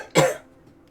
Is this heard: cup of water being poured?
no